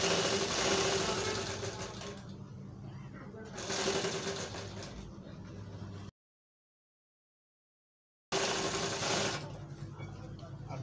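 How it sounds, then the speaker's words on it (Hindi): Sewing machine stitching a cloth face mask, running in close, rattling bursts: a long run, a shorter one, a silent pause, then a final short burst. "अब दूसरा तरफ भी हम इसी तरह बारीक मारेंगे सिलाई"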